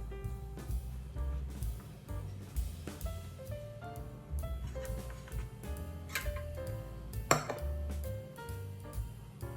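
A knife scoring the surface of wieners for a Japanese breakfast bowl, producing light, quick ticking taps against a cutting board that sit faintly over soft background music.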